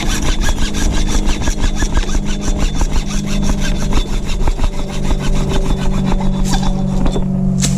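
An old hacksaw cuts through PVC pipe with loud, close, rapid back-and-forth rasping strokes in a steady rhythm, and no talk over it.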